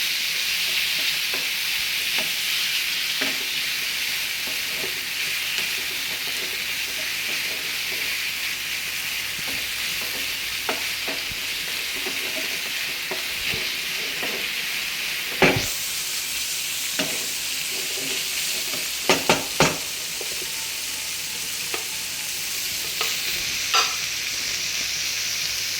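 Steady hissing sizzle of salted chicken frying in a pan, with occasional scrapes and clinks of a spoon stirring, a few sharper knocks toward the end.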